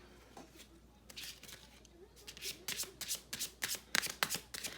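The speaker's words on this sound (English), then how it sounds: "Let me get a card here." Tarot cards are shuffled and one is drawn, giving a run of riffling, flicking card bursts close by, growing busier and louder toward the end, with a faint voice under the early part.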